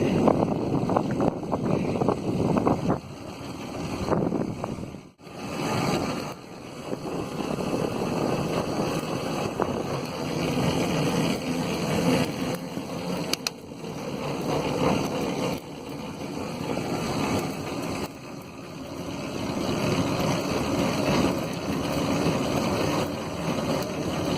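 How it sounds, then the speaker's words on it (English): Steady wind buffets the microphone for the whole stretch, a broad rushing roar with gusty swells and a brief dip partway through, no voices. "It's a bit windy today."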